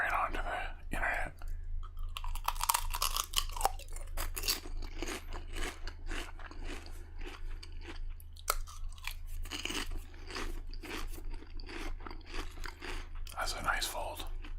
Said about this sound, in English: The Lay's chips aren't as crunchy as a kettle cooked chip, but they're still, I find, a solid, good chip.